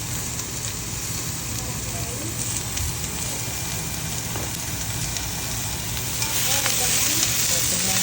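Ingredients sauté in a hot pan, giving a steady close sizzle with stirring scrapes and light clatter that grows slightly louder toward the end.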